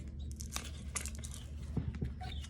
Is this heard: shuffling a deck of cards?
yes